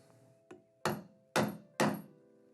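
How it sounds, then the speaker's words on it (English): A hammer drives a panel punch tool through a British classic car panel: one light tap, then three heavy, sharp thunks in a steady rhythm, close and loud. "you simply grab a hammer and punch it out."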